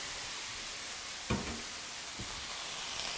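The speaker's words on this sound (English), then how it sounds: "So we'll throw our salmon in there." Salmon searing in olive or canola oil in a hot pan, a steady hiss of sizzling with one soft knock as the fish goes in and a fainter tap shortly after.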